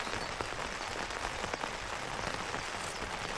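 Heavy rain drums steadily on an Atepa Voyage tent at The Valley campsite, a dense, close hiss of countless drops with no break and no voices.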